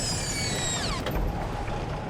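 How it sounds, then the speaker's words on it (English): Air brakes on a heavy tow truck release on a freezing night highway, giving a sudden short hiss about halfway through. Before it comes a falling mechanical whine, and a low engine rumble runs underneath. "It's nice to hear that sound. the brakes are released."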